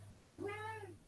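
A cat gives a single drawn-out meow, rising and falling, fairly faint and close, over a low steady hum.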